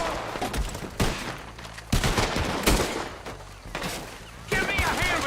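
Gunfire in Red Dead Redemption 2, several sharp, loud shots in quick succession across a few seconds of a close firefight, with voices shouting in between.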